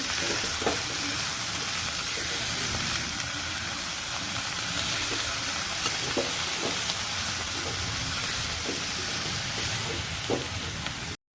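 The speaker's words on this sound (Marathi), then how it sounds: "हिरवी भाजी टाकून घेते थोडी थोडी करून" Green chickpea leaves dropped into hot spiced oil, frying with a steady loud sizzle and hiss, light stirring clicks and scrapes throughout, no talking.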